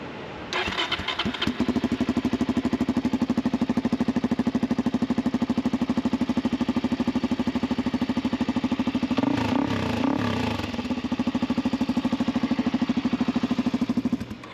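A 2022 Suzuki DRZ400 motorcycle with a silencer in its exhaust cranks and catches, then settles into a loud, steady thumping idle with a brief revving burst partway through, heard from outside.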